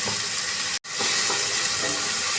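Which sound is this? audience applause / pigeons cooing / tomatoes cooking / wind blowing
tomatoes cooking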